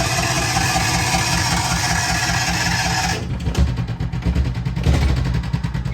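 A Kawasaki Mule utility vehicle engine fitted with a new carburetor cranks and catches, then settles into a loud, close, chugging idle with an uneven rhythmic pulse.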